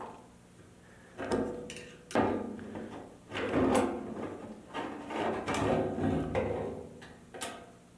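Fuel tank sender unit being fitted into a Dodge Challenger fuel tank during restoration, a string of knocks, clunks and sliding scrapes at close range with no talking.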